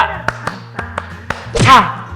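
Audience members clap along in a call-and-response clapping game, several crisp, distinct claps spaced at a steady beat, then a voice speaks over the room.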